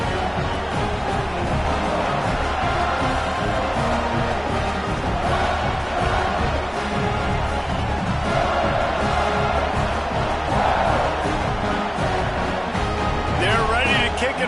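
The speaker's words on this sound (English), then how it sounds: "this crowd is buzzing after that last score" Dense football stadium crowd keeps up a loud, steady buzz through the whole stretch right after a touchdown, a broad roar with scattered voices and no clear breaks.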